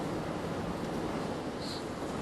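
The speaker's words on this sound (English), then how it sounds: "Crazy wind out there." Strong, gusty wind outdoors roars steadily and loudly against the microphone. It is a dense, unbroken rush with no voices.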